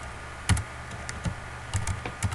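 Typing on a computer keyboard: irregular clusters of close, crisp key clicks over a steady low background hum, with no talk.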